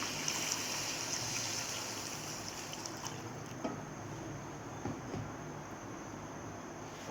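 A little water is added to a cooking pot of ginger-garlic paste and green chilli paste for kaleji masala, a faint trickling splash over a soft background that fades out after a few seconds.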